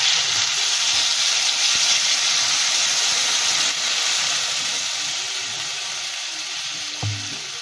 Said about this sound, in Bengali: দেখো জলটা দিয়ে দিচ্ছি